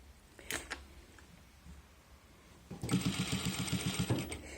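A sewing machine stitches an invisible zipper into thick fabric, running in a short, close burst of rapid, even needle strokes after a mostly quiet stretch with a few faint handling clicks.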